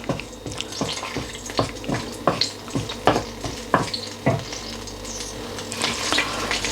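Whole spices sizzling in hot oil while a utensil stirs them, giving a run of distinct knocking scrapes against the pan in a loose rhythm over a steady frying hiss, close and without speech.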